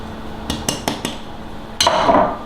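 Flour and baking powder being mixed in a bowl for madeleine batter: four quick clinking taps of a utensil against the bowl, a pause, then a louder scraping, stirring clatter, close and with no talking.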